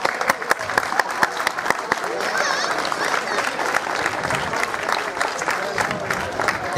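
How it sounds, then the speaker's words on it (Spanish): A crowd at an urban festival applauds the students with sustained clapping, some sharp individual claps standing out near the front, while voices murmur and shout beneath. "yo quiero un fuerte aplauso para ellos"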